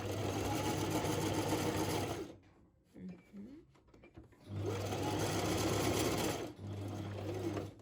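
A sewing machine stitches fabric in two steady, loud runs of rapid mechanical whirring, separated by a pause of about two seconds filled with quiet clicks and handling.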